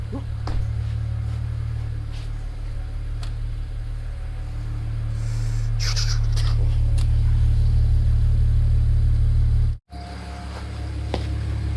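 BMW 335i with N54 engine idling steadily with a low, even drone for most of the clip, rising slightly and briefly cutting out before resuming; wheels turning with a new MFactory 1.5-way limited-slip differential.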